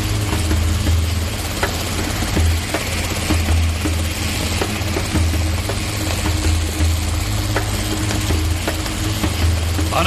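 A small motorbike engine runs steadily at idle, a continuous low throbbing hum with faint rattling, close by and alone with no talk.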